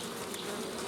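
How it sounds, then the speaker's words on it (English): Bees buzzing close by outdoors at the edge of a forest, a steady, dense drone that fills the whole short moment without any voices. "So we got bees out here, huh?"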